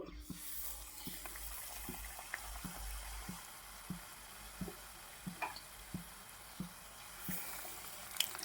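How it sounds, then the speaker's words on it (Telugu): Onion bajji fritters crackle softly in hot oil as pieces are dropped in, with a faint, steady sizzle and a series of quiet, regularly spaced thuds. "ఇప్పుడు ఆయిల్ కూడా వేడైపోయింది. ఒక్కొక్క ఉల్లిపాయ అయితే ఇందులో వేసేసుకోవాలి."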